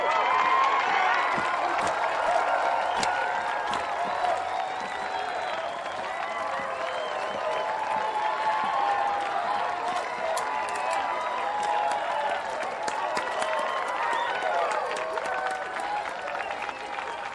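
A large crowd applauds for its valiant fighters, steady dense clapping with some cheering that carries on loudly and evenly for the whole stretch.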